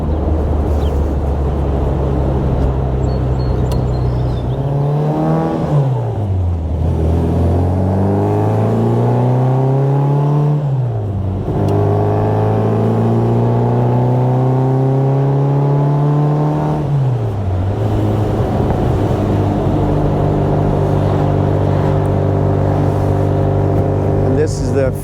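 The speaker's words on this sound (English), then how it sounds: "So really a capable Bugeye, and a delight to be able to go out and drive." Bugeye Sprite fitted with a Ford 5-speed transmission driving steadily, its small engine droning loud and close, with clear rising pitch through gears and dips at shifts around five, ten and seventeen seconds.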